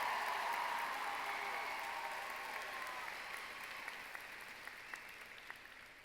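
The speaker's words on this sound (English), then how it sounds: "Let's have another round of applause for Mr." Steady applause from a large crowd at a high school commencement ceremony, a broad wash of clapping heard from a distance that slowly tapers off, with a few sharper individual claps near the end.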